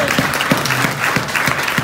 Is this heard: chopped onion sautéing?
no